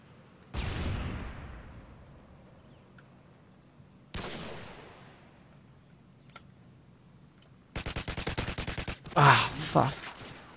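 Unsilenced weapon fire in Call of Duty: Modern Warfare 2: two sharp, echoing shots spaced apart, then a rapid automatic burst and louder blasts, set against a quiet background.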